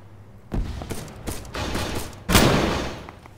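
Bursts of MX rifle fire in the ARMA 3 military shooter game, three or four loud cracking volleys with rumbling echo tails, the last one the strongest.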